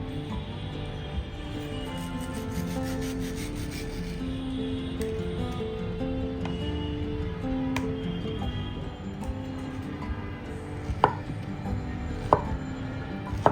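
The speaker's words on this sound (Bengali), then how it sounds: "আমি সুন্দরভাবে এটাকে স্লাইস করে নিব।" A knife slices through a ripe mango on a board with steady, repeated close-up cuts, a few sharper taps near the end, and no talking.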